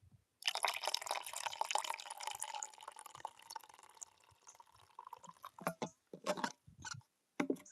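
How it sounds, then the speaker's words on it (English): Coffee pours steadily into a cup for several seconds, then breaks into a few short splashing drips near the end, close and clear with no talking. "here's the glorious sound of coffee pouring"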